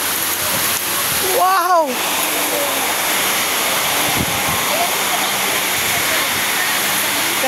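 Steady rain falls at a native restaurant in Cebu, a continuous broadband hiss under the whole stretch, with a brief exclaiming voice near the start.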